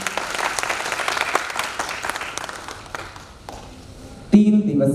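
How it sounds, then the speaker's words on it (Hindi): An audience at a three-day folk drama festival gives a round of hearty applause, dense clapping that thins out near the end before a voice and music cut in. "एक बार जोरदार ताली"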